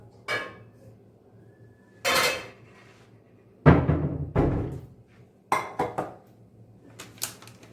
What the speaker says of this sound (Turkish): Ben şimdi çikolata sosu için bir tane tava alacağım.